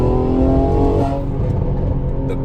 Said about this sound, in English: You can hear the crackles on the exhaust in the back.